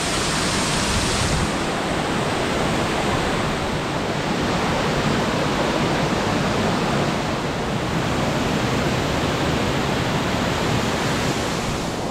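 Bokadkada waterfall near Vajreshwari, Virar, as a loud, unbroken rushing roar of falling water that holds steady throughout with no voices.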